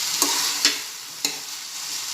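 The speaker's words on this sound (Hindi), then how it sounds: "और इसे चम्मच से अच्छे से हिलाऊंगी।" A spoon stirs egg into methi bhaji in a pan, three distinct scraping clinks over a continuous hiss of sizzling, close and fairly loud with no voice.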